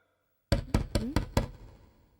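Knocking on a door in a dramatic film scene: five sharp, evenly spaced knocks in quick succession, close and fairly loud, followed by a fading room tail with no talking.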